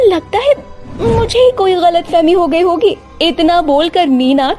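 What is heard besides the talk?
No distinct noise like a dog, phone or traffic.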